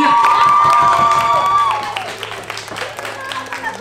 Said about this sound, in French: Bravo, on peut encore applaudir.